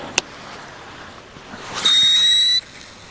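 An Origin F1 baitcasting reel squeals during a cast of a suspending lipless crankbait, a sharp click followed by a high, steady shriek lasting under a second over quiet outdoor background noise.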